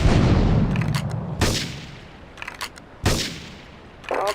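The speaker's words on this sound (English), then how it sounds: "Investigate reports of gunfire and explosions." Gunfire and explosions from the game GTA 3 boom in several heavy bursts with rumbling decay between them, loud and close.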